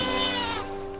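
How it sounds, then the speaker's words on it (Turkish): A single wavering goat bleat, loud and close, trailing off into a steady nasal tone over about a second. "Demek kağıt yiyen canavar bu. Bir keçi."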